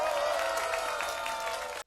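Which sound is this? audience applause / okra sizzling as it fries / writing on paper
audience applause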